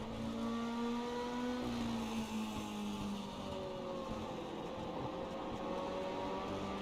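Mini stock race cars in a sim racing video game drone steadily as their engines hold and shift pitch, several overlapping engine tones sweeping up and down together at moderate, even loudness.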